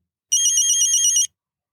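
A mobile phone ringtone plays one short burst of bright, warbling electronic tones, loud and clear, with silence before and after.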